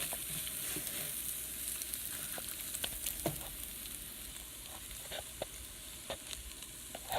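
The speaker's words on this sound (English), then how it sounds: "when it's all oiled up, gotta mush it up a bit again" Eggs fry in a pan slicked with olive oil, a steady close sizzle broken by scattered scraping taps as they are mashed and stirred; no one speaks.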